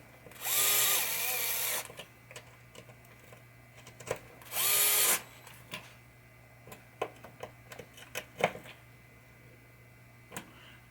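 Power drill driving screws into the body of a pop bumper from a 1967 Williams Blast Off pinball machine, two sustained close whirring bursts of about a second each, followed by scattered ticks and clicks of parts being handled.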